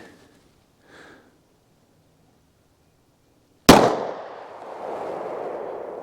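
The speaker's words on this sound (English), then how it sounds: "I'm just going to do 2 rounds off of both of these just in case something screws up." A Sig P365 pistol with a 3-inch barrel fires one round of Colt 9mm solid copper hollow point ammunition into ballistic gel. A single sharp, very loud, close crack follows near silence and trails into a lingering rumble and hiss.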